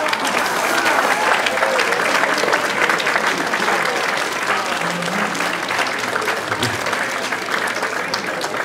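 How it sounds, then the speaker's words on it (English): A live audience applauds a performer with steady, dense clapping that stays loud and unbroken throughout. "how about a big round of applause for my friend"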